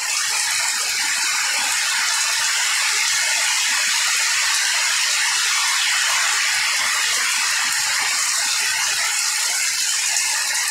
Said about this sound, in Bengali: সুযোগ পেয়েছি, সেহেতু একটু বৃষ্টি দেখতেছি এবং আপনাদেরও দেখানোর চেষ্টা করতেছি।